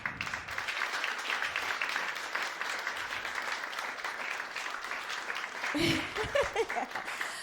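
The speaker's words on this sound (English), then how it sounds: "let's give one hearty round of applause for our panelists." A roomful of people at a panel discussion applauds warmly and steadily for several seconds, the clapping fading near the end as a voice and a few chuckles come through.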